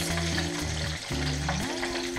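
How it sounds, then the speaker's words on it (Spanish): Frozen cheese fingers frying in very hot oil, a dense steady sizzle heard close up, with a low tonal hum running beneath and no speech. "vamos a empezar a freír los fingers"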